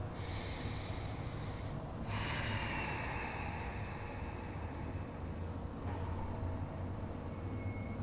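Deep breaths taken while sitting up tall, palms up and eyes closed, at the end of a yoga class, soft airy breath noise under a steady, loud room hiss.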